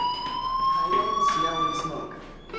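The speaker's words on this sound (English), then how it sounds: "Hey, do you hear that fire alarm?" A fire alarm rings with a continuous high electronic tone that holds steady throughout, loud and close, while people talk over it.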